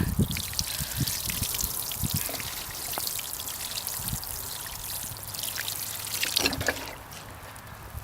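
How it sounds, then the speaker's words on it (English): Water pours and trickles steadily onto a carrot bed's soil close by, with scattered splashes and drips and a brief louder gush near the end. "give them a nice, good water in."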